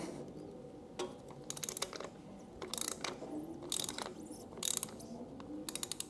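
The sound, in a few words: ratchet with extension loosening Kawasaki Versys 650 oil drain bolt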